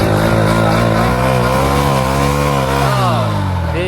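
A 1985 Hero Honda motorcycle engine running steadily at close range, a loud continuous mechanical drone with a slight pitch rise and fall, no voices over it.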